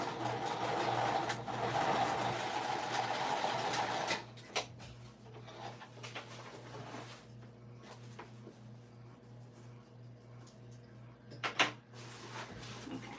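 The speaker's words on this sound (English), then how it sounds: "I am going to add that extra bit of stitching, but only where the D-ring connector is" A sewing machine runs steadily for about four seconds, adding reinforcing stitches to a crossbody bag strap where the D-ring connector sits, followed by quieter handling clicks and a low hum.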